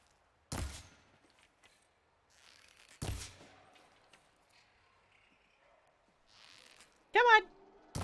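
Gunfire in a video game: two sharp, loud shots a few seconds apart amid quiet, followed by a brief burst of a voice yelping near the end.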